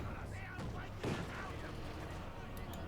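Gunfire in the strategy game Company of Heroes 2 during a sniper engagement: a sharp report cracks once amid muffled battle noise and distant booms, with a commentator talking over it.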